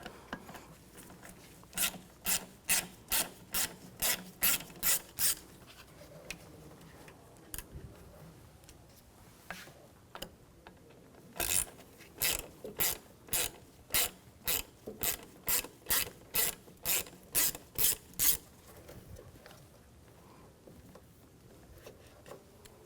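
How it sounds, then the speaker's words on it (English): A ratchet fitted with a T25 socket backs screws out of a Volkswagen Jetta, clicking in quick bursts of repeated pawl ticks with short pauses between strokes, close and fairly quiet. "We're going to use a T25 socket. Take these screws out."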